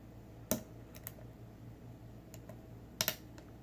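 Faint, sharp metallic clicks sound from pin tumblers while an old American padlock is picked in a vise, a few isolated ticks spread over a quiet background hum.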